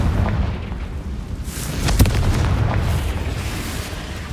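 A Confringo fire spell explodes in the Hogwarts Legacy video game, a booming burst peaking sharply at one moment over a steady rumbling game soundscape, alone without talk.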